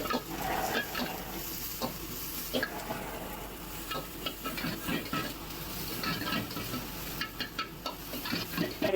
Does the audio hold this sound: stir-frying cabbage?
yes